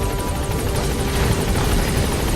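A helicopter in Metal Gear Solid V: The Phantom Pain holds a steady, loud rotor roar with fast blade chop, continuous through the whole stretch with no talking.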